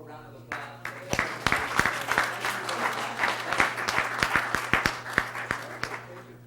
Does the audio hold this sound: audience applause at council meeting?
yes